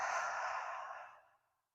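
One long, deep exhale after a full 360-degree rib-cage breath in a 90/90 position, a breathy airy rush close to the mic that fades slowly to silence.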